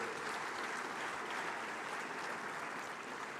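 A large audience at a formal international banking conference, the Afreximbank Annual Meetings, gives a dense, sustained round of applause. It is a steady, even wash of clapping throughout and is somewhat distant.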